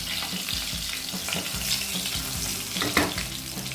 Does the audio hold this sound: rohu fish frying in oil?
yes